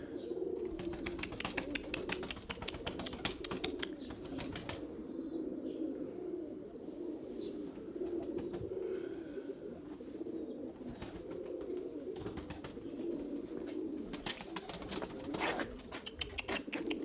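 Purebred Erzurum White pigeons, mostly young birds from this season, coo in low repeated rolling calls with scattered sharp wing flaps and rustles, fairly quiet and close, with no talking.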